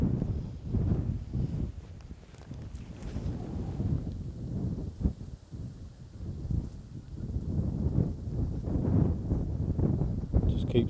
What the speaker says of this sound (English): Fair breeze out here.